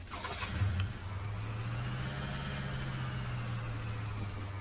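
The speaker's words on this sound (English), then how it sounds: "Pull our truck in here." A truck drives in inside the Car Dealer Sim game, its engine starting with a brief rev and then settling into a steady, close mid-pitched hum that holds evenly with no talking.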